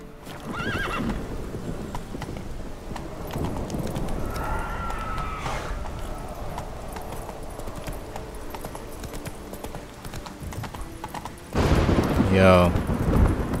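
Horse in the video game The Witcher 3: Wild Hunt, with clip-clopping hooves and a sharp whinny near the end, set against game ambience and a player talking over it.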